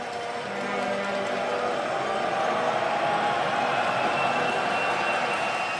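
Basketball arena crowd roaring steadily after a foul-shot play, a dense wash of cheering that swells and holds with sneaker and ball sounds faintly beneath.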